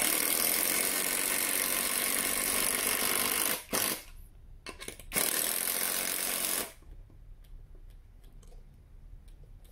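A PHIPOL cordless drill/screwdriver runs with a loud, high whirring motor, cutting out briefly, restarting for a short burst, then stopping, leaving faint background noise.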